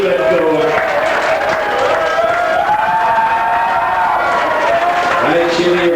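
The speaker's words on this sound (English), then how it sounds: "Keep the applause going" A lounge audience at a glamorous granny competition keeps up loud sustained applause and cheering, with voices talking and calling out over the clapping throughout.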